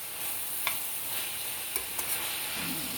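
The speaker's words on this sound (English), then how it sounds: "stir the peppers and onions throughout" Peppers and onions fry in a pan while being stirred, a steady close sizzle with a few soft scrapes of the utensil against the pan.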